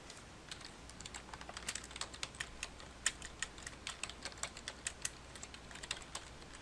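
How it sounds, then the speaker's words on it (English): A computer keyboard being typed on at a steady pace, with light, quiet keystrokes clicking in irregular clusters against a soft background hiss, no voices. "You can start typing"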